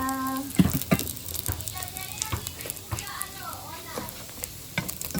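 Misua meatballs fry in a covered pan, a steady sizzle with stirring clatter, while voices and children sound in the background.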